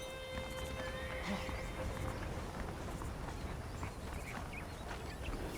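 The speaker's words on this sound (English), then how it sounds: "The horses are saddled up over here." Horses neigh and whinny over steady clip-clopping hooves in the video game Red Dead Redemption (Remastered), with a dense, continuous outdoor game ambience underneath.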